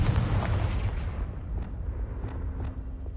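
Booming fire-spell blasts from the Confringo curse in Hogwarts Legacy, a dense rumbling burst at the start followed by several sharper crackling impacts at a steady interval, loud and close with no speech.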